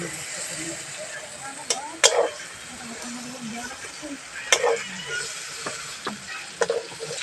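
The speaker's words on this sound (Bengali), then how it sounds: "এরকম হালকা করে বেগুনটা ভাজবো" Eggplant fries in plenty of oil with a steady low sizzle, broken by occasional sharp clinks and scrapes of a utensil against the pan, close and moderately loud, with a person talking over it.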